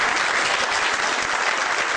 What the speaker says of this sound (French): Joseph Kabila fait son entrée sous les applaudissements.